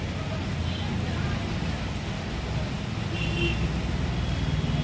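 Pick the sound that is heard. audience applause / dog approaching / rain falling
rain falling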